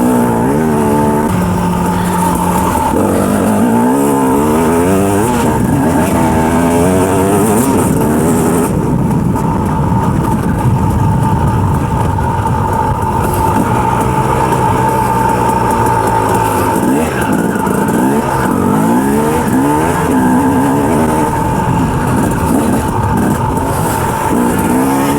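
A 2007 KTM 250 EXC motorcycle rides continuously, its engine loud and close throughout, revving up and dropping back in repeated changing pitch sweeps as it accelerates and brakes. No voices are heard.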